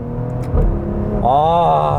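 A Maserati Levante F Tributo SUV downshifts, its exhaust barking and rising in a quick rev, loud and close, with a voice talking over the engine.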